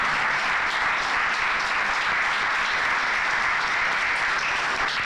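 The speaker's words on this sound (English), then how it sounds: "Let's give them a round of applause." An audience at a panel discussion applauds in a steady, dense round of clapping that fills the whole stretch without pause.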